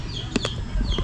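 A red junglefowl (labuyo) gives a short call, a couple of quick clucking notes at moderate distance over steady background noise.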